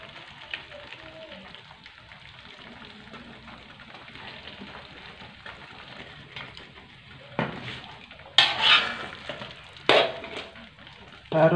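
Pomfret fish goes into a pan of frying spice paste for Malaysian asam pedas. A quiet steady sizzle gives way to several loud bursts of crackling spatter near the end.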